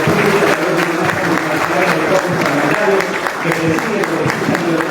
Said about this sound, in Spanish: Los aplausos, por favor.